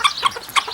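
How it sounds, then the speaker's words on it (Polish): A rooster calls his hens to food with short, repeated clucking notes, three quick bursts spaced across under a second, close and fairly clear with no talk. "kogutki jak nawołują kurki, żeby jadły"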